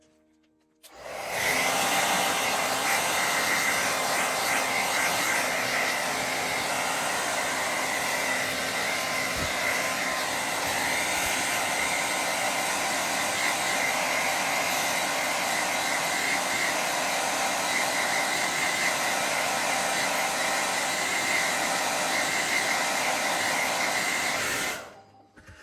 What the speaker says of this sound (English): I'm going to go ahead and dry this with my hair dryer